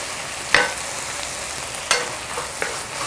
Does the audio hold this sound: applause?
no